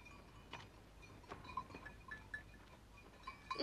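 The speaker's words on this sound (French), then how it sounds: "Laisse donc brouter tes chèvres." Goats grazing in an animated alpine pasture, with faint scattered bleats, soft clinking of bells and quiet rustling, ending in a louder close bleat.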